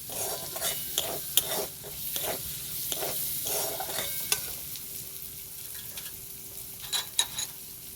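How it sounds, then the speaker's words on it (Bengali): Chopped onions fry for meat ghugni in a hot pan with a steady bright sizzle. A spoon scrapes and stirs in irregular strokes, with occasional metallic clinks against the pan. "দিয়ে দেবো কাটা পেঁয়াজ, ভালো করে পেঁয়াজটাকে ভেজে নেব।"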